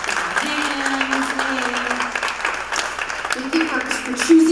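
An audience at a school assembly claps steadily throughout, a dense sustained wash of applause with a voice talking over it.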